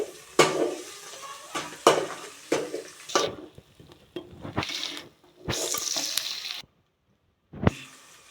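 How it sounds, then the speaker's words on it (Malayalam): Chopped green chilies added to onions frying in a pan for kappa biryani, with a steady sizzle, bursts of loud stirring and spoon scrapes against the pan, and brief pauses, no talking. "ഇനി അരിഞ്ഞു വെച്ച പച്ചമുളക് അതിലേക്ക് ചേർത്ത് കൊടുക്കാം."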